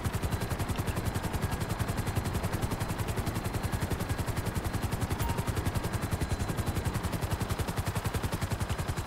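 Helicopter rotor blades in a video game chop in a fast, steady rhythm, loud and close throughout, with no voices.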